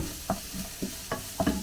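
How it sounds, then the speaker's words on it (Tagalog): Onions fried in a pan as the base for sisig, a brief soft sizzle punctuated by several quick stirring clicks and scrapes, close and without talk. "piprito ko muna yung onion bago natin ilagay ang ating sisig."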